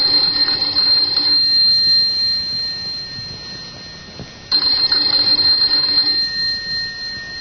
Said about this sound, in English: Let's begin this tale with the ringing of a doorbell.